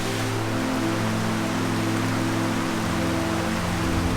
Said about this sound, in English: We've just been hit by the heaviest rain yet, so we're taking shelter to see when it will pass.